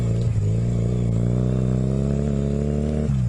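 A Honda CB250 motorcycle on a test ride in first gear gives a steady, loud, close engine drone with a deep, even throb, holding its pitch before dropping slightly at the end.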